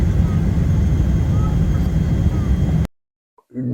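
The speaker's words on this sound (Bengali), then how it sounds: "দুবাইয়ের আকাশে প্লেন উঠে গেছে" Cabin of an Emirates airliner climbing out of Dubai after takeoff: a steady, dense engine and air roar fills the cabin, then cuts abruptly to near silence with a few faint sounds at the end.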